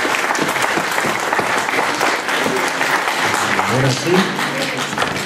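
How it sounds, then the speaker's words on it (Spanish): Wedding guests applaud the couple during a Spanish-language ceremony, loud dense clapping filling the room throughout while someone speaks briefly over it. "Fuertes aplausos para estos chicos."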